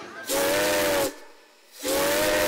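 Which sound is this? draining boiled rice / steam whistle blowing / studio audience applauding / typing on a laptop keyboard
steam whistle blowing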